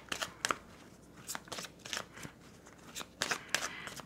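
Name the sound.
tarot cards being shuffled and drawn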